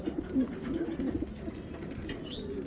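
Racing pigeons bred from imported stock coo softly in a low, rolling murmur, a few repeated throaty phrases close by over a faint background.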